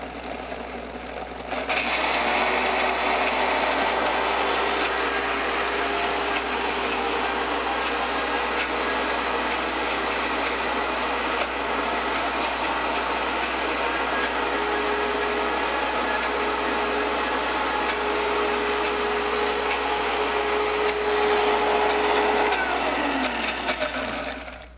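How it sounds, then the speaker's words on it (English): A countertop blender purees pesto sauce in one loud, continuous whir lasting over twenty seconds, running first on low and then cranked to high, with a steady motor whine under the churning and no talking. "put this blender on and let it roll until everything is very well blended"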